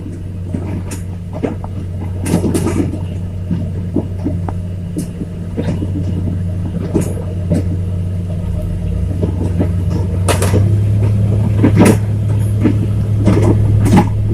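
A Komatsu 405 motor grader working a four-metre-wide stone-hardened road, its diesel engine a steady low rumble throughout with scattered clanks and scrapes of the blade over gravel, fairly close and continuous.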